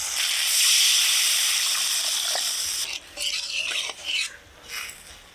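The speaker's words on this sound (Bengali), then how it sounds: "মশলার সাথে আলুগুলো ভালোভাবে কষিয়ে নিলাম এবার জল দিয়ে দিব" Water being poured into a clay pan of potatoes frying with cumin, coriander and dried chilli paste, a steady broad sizzling hiss at first, then fading into intermittent stirring and scraping bursts.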